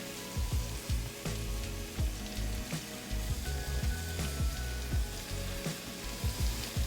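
Shrimp searing in a hot pan with a dense, continuous sizzle and crackle, broken by repeated knocks and scrapes as the pieces are flipped.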